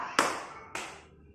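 Two crisp hand claps, close and fairly loud, spaced about half a second apart, each ringing briefly in a classroom before fading to quiet.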